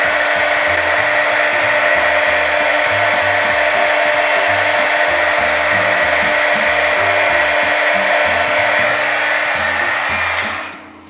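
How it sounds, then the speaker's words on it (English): A heat gun blows hot air onto fun foam petals to curl them, a loud continuous whooshing roar with a steady motor whine that holds for about ten seconds and then cuts off. "turn on my heat gun until the whole thing starts to curl in on itself"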